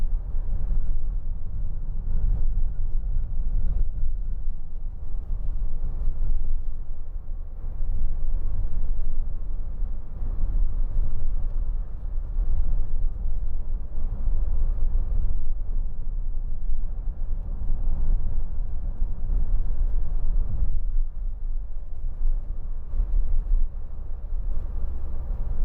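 A 2014 Renault Trafic 2.0 dCi van driving on the road, a steady loud low rumble of engine and road noise heard from inside the cabin, continuous with slight swells and no talking.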